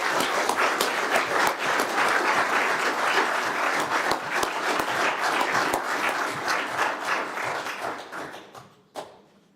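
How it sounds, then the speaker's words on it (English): Audience at a civic awards ceremony giving a long, loud round of applause, dense clapping from many hands that fades out toward the end, followed by a single sharp knock. "Please give a huge round of applause to Colin."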